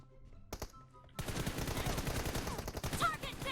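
Automatic gunfire in PUBG Mobile during a one-on-one fight: a short burst, a pause, then sustained rapid bursts of shots, loud and close, running continuously to the end.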